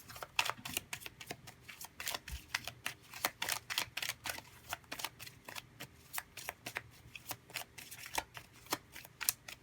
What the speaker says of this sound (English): So let's see if we can grab 3 cards here.